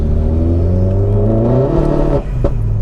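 Vauxhall VXR car with a stage 3 remap and 613cc injectors revs its engine loudly and steadily close by, the pitch rising and falling through several pulls before a brief drop and another blip near the end.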